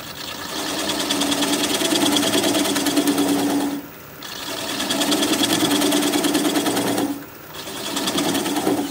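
A wood lathe turning a rhododendron root bowl at about 600 rpm, worked with a 3/8 inch swept back gouge, gives a steady loud whirring cut that drops out twice for a moment.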